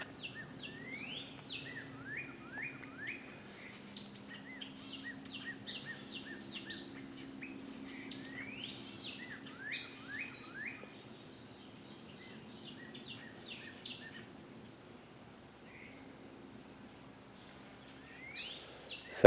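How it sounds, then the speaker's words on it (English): Birds sing around an off-grid cabin, short chirps and trills scattered across the stretch over a steady high insect drone, faint and distant in a quiet outdoor setting. "I love listening to the birds out here."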